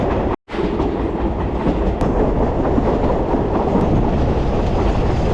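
A passenger train on the Nairobi to Nyahururu line in Kenya rumbles along in a loud, continuous roar with a rolling clatter, heard from inside a coach and briefly cut out near the start.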